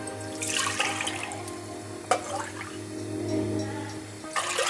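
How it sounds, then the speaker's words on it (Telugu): Two cups of water pour into a pan for making semolina dumplings, a continuous splashing rush lasting several seconds, close and moderately loud, ending in a brief clatter. "రెండు కప్పుల నిండా వాటర్ పోసుకుందాం"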